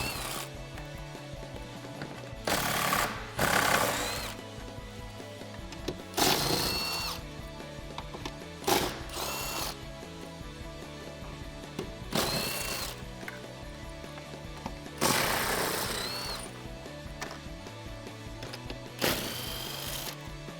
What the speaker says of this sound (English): we can take a 13mm socket and remove the 8 bolts that are surrounding the actual carrier